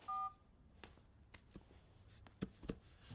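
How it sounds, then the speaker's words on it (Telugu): A telephone keypad being dialed opens with one short, clear touch-tone beep, followed by a few faint, soft clicks and taps in a quiet room with no talking. "ఆయనకు ఒకసారి కాల్ చేస్తాను."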